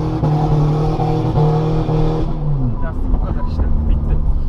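Opel Corsa 1.7 DTI diesel engine after a software update, driving with a steady low drone that shifts pitch partway through as the car changes speed, loud and close throughout.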